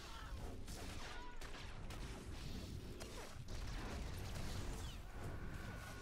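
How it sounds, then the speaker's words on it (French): A small submachine gun fired in a video game, giving dense, rapid bursts of gunfire with mechanical clatter that continue steadily throughout. "C'est pas mal pour une petite mitraillette."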